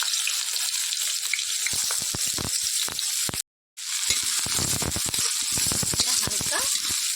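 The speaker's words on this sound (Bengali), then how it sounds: "তেলটা গরম হয়ে গেছে, এর মধ্যে দিয়ে দেবো ছোটো এলাচ, দারুচিনি আর লবঙ্গ। তার মধ্যে দিয়ে দেবো পেঁয়াজ কুচি।" Chopped onion frying in hot oil with cardamom, cinnamon and cloves, a loud steady sizzle with scattered crackles and a brief dropout midway.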